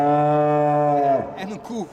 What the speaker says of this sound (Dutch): En een koe.